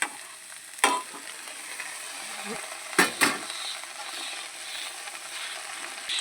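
Drumstick leaves, sajna greens, go into hot oil with slit green chillies, fried potato and eggplant, hissing softly, with a few sharp clatters of the spatula against the pan and quiet sizzling between them.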